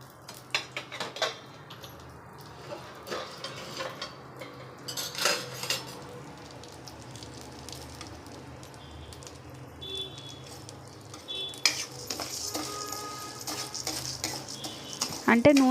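Spices for koora podi dry-roasted in a pan, stirred with a utensil that scrapes and clinks against the metal in irregular bursts over steady low background noise, growing busier toward the end.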